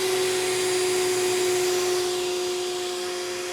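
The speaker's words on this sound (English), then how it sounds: "So this end is the end you blow it up with, and when you want to deflate it for any reason, you put it on this end, it sucks it down." An electric air pump inflates a CarCapsule car cover in a garage, a loud, steady droning whine with a constant pitched hum, unbroken throughout and close by.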